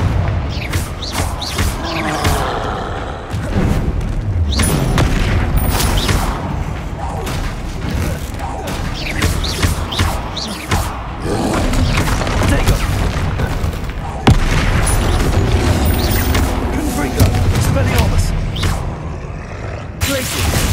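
Blasting spell explosions in the Hogwarts Legacy video game, repeated booming blasts and crackling impacts in a dense battle mix, loud and nearly continuous, with spoken voices calling out spells over the din.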